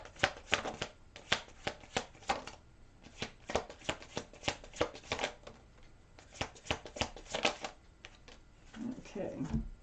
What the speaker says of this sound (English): Let's take out the rest of these cards, please, that we need for this reading.